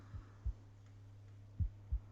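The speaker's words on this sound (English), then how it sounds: "Did I just hear a heartbeat?" A heartbeat heard close up in a game, two paired low thumps separated by a pause, over a constant low electrical hum.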